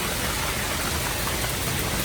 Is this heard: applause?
no